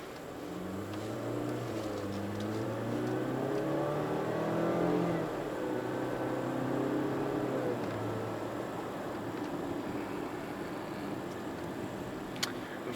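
A Range Rover Velar's 2-liter engine hums and revs smoothly from inside the cabin during an off-road drive, pitch climbing during acceleration before settling into a steady drone.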